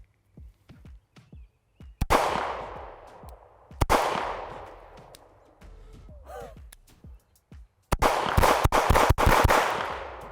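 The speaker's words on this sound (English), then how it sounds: "we'll actually get some first shots out of this thing here on the range" Pistol shots from an OA Defense 2311 Compact Pro fired on an outdoor range: three loud reports, at about 2 and 4 seconds and a single shot near 8 seconds, each cracking sharply and ringing out across the open range.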